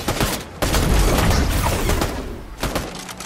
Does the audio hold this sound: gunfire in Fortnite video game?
yes